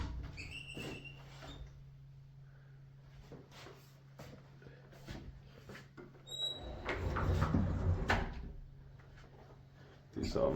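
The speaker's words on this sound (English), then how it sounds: "This is almost like automatic door." Thyssenkrupp traction elevator doors at a hotel in Graz, Austria, a soft hum followed by a sliding rumble with clicks and a thud, fairly quiet, with a beep and a voice speaking at times.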